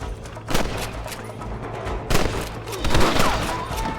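Gunfire in the Western game Red Dead Redemption comes as several loud volleys of shots and booms over a constant background of battle noise.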